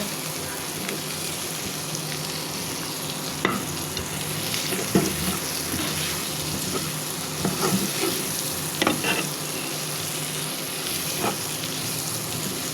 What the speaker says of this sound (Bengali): খুব সহজে চিংড়ি মাছটা আমি রান্না করে নিচ্ছি। ছেড়ে দিয়েছি মশলার ভিতরে, কষানো মশলাতে